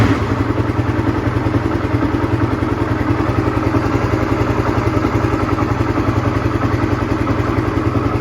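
A Honda CBR150R motorcycle engine idles steadily with a manual idle-speed control fitted, a close, even low rumble with light mechanical clatter running throughout.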